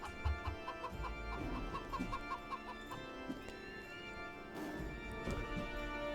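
A chicken clucks in an AI strategy game tournament match, with a quick run of soft repeated clucks over a continuous ambient game soundscape and a few scattered thumps.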